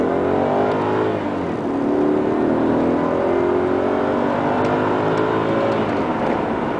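A car engine accelerates hard, its steady roar climbing in pitch through repeated gear pulls, loud and close with no talking.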